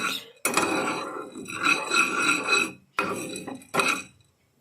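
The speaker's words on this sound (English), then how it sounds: "So I think it needs 3 to 4 minutes to roast. We will stir it." A spoon scrapes and clinks against a pan while roasting spices are stirred, several close bursts of metallic scraping with short pauses between strokes.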